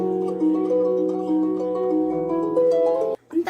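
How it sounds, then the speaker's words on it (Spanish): A harp is plucked alone, its fingered strings ringing in a clear melodic line with sustained, overlapping tones that close with a brief pause and a final struck note. "El arpa suena así"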